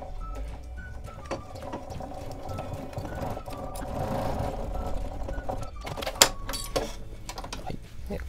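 Sewing machine stitching a seam in burlap coffee sack fabric for a snowboard bag, a steady mechanical whir with some rattling clicks and a few sharper knocks near the end, close and alone.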